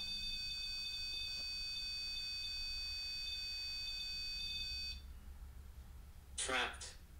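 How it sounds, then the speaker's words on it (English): An electronic alarm sounds during a paranormal investigation at Bobby Mackey's. Its steady, high-pitched tone holds for about five seconds and then cuts off, followed by a brief noisy burst. "Whoever's setting that alarm off, can you come over here, sit down in this chair, and set this alarm off?"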